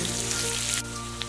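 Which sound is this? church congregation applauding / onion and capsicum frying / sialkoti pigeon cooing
onion and capsicum frying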